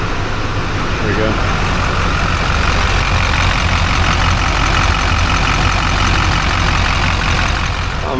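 Idling vehicle engine held at steady low revs during an oil change, a constant, loud rumble with broadband road-like noise running alone throughout.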